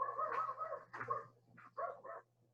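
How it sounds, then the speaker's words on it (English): A dog barks and yips in short bursts at home, heard through an online webinar call: a cluster of sharp barks, a pause, then three quicker yaps over a low steady hum. "Seems like your dog is seconding"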